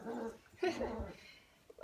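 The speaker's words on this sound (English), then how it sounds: "my puppy's making a lot of noise in here" A puppy whimpers and whines indoors in two short bursts of high, thin yelping sounds, fairly close and moderately loud, with no speech over it.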